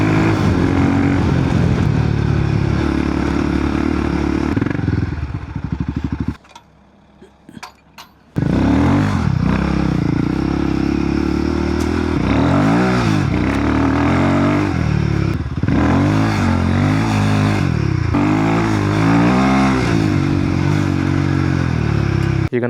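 A Royal Enfield Himalayan 450 or Triumph Tiger 900 Rally Pro rides a mud track, the engine droning and revving close by with rising and falling pitch and a brief drop in the middle.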